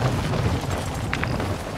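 Deep rumbling air strike blasts in Call of Duty: Modern Warfare II, a sustained low boom rolling continuously with a couple of brief sharp pops near the end, loud and close.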